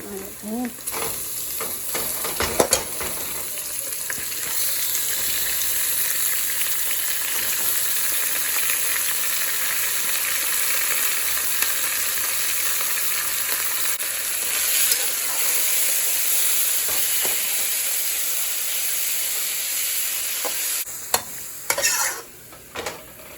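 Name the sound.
ground beef keema frying in a pan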